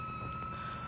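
A Hartech 45 kVA diesel generator sounds its charging-fault alarm, a steady electronic tone over the engine's low running hum, close and continuous through a very short stretch.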